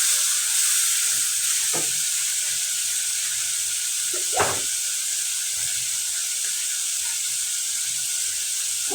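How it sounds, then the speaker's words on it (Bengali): Shrimp and spices fry in a pan for a home-style shrimp dish with vine stems; a constant close sizzle and hiss runs throughout, with a few brief clinks or stirs. "ঘরোয়া মশলা দিয়ে আমি ভাজিটা করব।"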